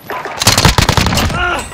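Loud, rapid bursts of gunfire from Call of Duty Warzone crack in quick succession, close and dense, with a short voice heard near the end.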